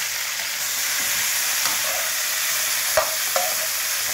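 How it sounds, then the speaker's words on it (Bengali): Cauliflower fries in a pan with a steady, soft sizzle, while a spoon stirs it in a few scraping strokes with a couple of sharper clinks near the end. "ফুলকপিটা দেখুন একটু নাড়াচাড়া করে নিলাম।"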